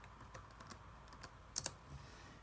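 A shell command typed on a computer keyboard: scattered soft keystrokes at an irregular pace, then a couple of sharper clicks near the end, faint and quiet with no talking.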